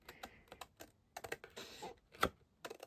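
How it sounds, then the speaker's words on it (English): Scissors snip through card with a series of short, crisp cuts, close and quiet, in an irregular rhythm of separate snips. "snip straight down"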